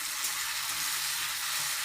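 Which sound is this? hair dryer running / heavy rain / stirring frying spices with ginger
stirring frying spices with ginger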